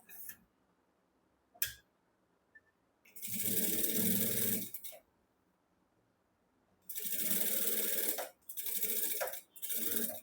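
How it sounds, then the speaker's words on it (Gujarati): Sewing machine running a loose basting stitch on a katori blouse, three short whirring bursts separated by quiet pauses, with a sharp click early on. "આ રીતે આપણે કાચી સિલાઈ લગાડવાની છે."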